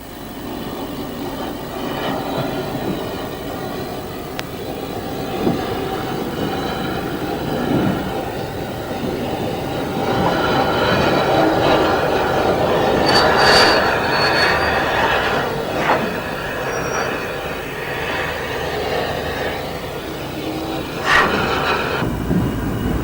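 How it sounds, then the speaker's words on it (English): Steam locomotive 592 on the Bluebell Railway at Sheffield Park is moved slowly over a works pit, giving a steady rumble of rolling wheels with squeals and clanks rising midway, loud and close with no talking. "Having built up enough steam pressure, 592 is moved over a works pit."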